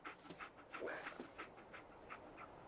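Dogmeat, the dog companion in the video game Fallout 4, pants in quick, steady, close-up breaths, with a faint whimper partway through.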